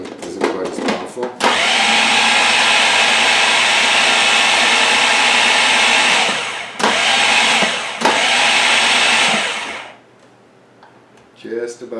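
A small food processor blends falafel mixture, a loud steady whir running for several seconds, briefly pausing and restarting, then stopping, with a person talking faintly before and after.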